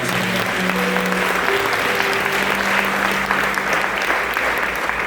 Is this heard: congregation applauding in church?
yes